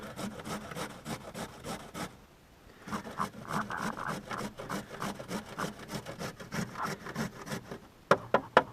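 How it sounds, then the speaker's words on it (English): A carrot is rubbed against a cheese grater in rapid, rhythmic rasping strokes, close up and steady, with a brief pause partway and a few sharper scrapes at the end. "Yes, I still use a cheese grater."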